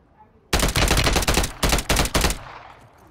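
Loud, close automatic gunfire from a low-recoil weapon in the video game Warzone 2.0, a dense sustained burst followed by three short separate bursts, then a fading tail.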